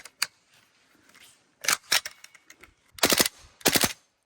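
An airsoft AK rifle fitted with a tracer unit fires short bursts: a single crack, then a few scattered shots, then two rapid volleys close by.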